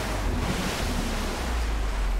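In Metro Exodus, a vehicle plows into water, giving a steady, loud wash of splashing and rushing water with wind-like roar that fills the whole stretch without letup.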